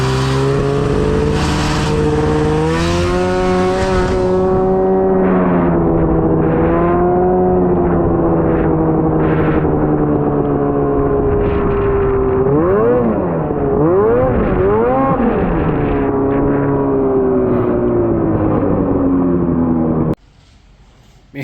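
A Honda Pilot swapped with a snowmobile engine revs hard and continuously, its loud droning tone rising and falling through several quick rev swells before cutting off abruptly near the end.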